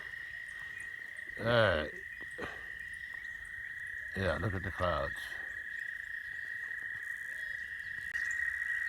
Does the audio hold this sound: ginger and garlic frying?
no